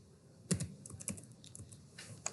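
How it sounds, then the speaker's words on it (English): Typing on a computer keyboard during video editing work, heard as a few scattered keystroke clicks with a sharper tap near the middle, quiet and close, with no talking. "I'm gonna click here and type names."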